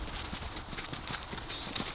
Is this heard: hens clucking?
no